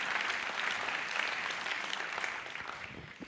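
Dense, sustained applause fills a French awards ceremony hall, loud and steady before tapering slightly, with no voices over it.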